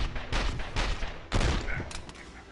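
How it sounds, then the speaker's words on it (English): Pistol gunfire in the video game 24: The Game, a rapid burst of shots in two clusters with a brief gap between them, loud and close with no talking. "you only get these pistols to shoot with"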